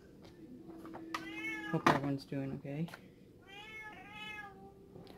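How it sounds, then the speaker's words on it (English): Loud indoor cats meow repeatedly, with several harmonic cries clustered around the middle and another drawn-out meow near the end, while someone speaks briefly over them. "my cats are loud"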